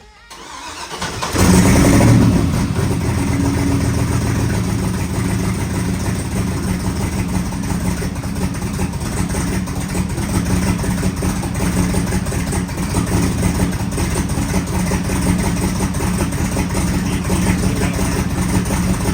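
A Trans Am with a swapped engine cranks and fires up after a second of silence, then settles into a steady, loud, rumbling idle that runs unbroken to the end.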